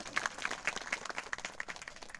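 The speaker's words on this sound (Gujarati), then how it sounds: "બેન માટે મિત્રો એકવાર જોરદાર તાળીઓ" A gathered crowd at a village event claps in applause, a dense, steady patter that is fairly close and continuous throughout.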